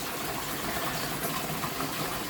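A garden hose left trickling water into a fish tank makes a steady, close, even rush of running water with no pauses and no voices.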